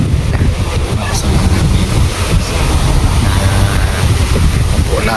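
Seaside wind and surf roar steadily and loudly throughout, with wind buffeting the microphone and a brief voice speaking under the noise.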